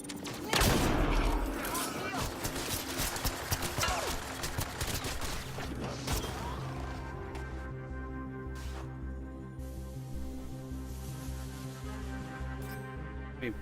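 Rapid bursts of automatic gunfire crackle loudly in a sci-fi shooter firefight against outlaws in Mass Effect Andromeda, dense volleys at first then thinning into scattered shots over a droning musical bed.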